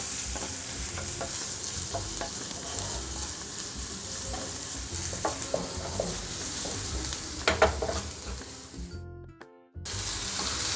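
Steady loud sizzling of food frying in hot oil, with stirring scrapes and clatter throughout, briefly cutting out near the end.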